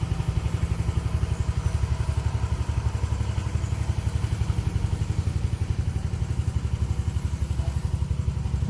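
A trawler boat's engine runs on a river, giving a steady, rhythmic chugging thump that stays close and constant throughout.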